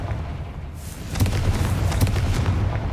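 The Confringo fire spell in Hogwarts Legacy goes off as a heavy boom about a second in, followed by a rumbling, crackling roar that lingers over steady background noise.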